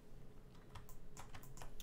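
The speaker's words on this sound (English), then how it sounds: "all I need to do now is press Z on the keyboard" Keys tapped on a computer keyboard during 3D rendering work in Blender, a handful of light, irregular clicks, close and quiet, with no voices.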